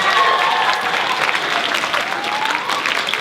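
Audience applause at a student poetry recitation event, steady crowd clapping filling the room with a few faint voices and whoops mixed in.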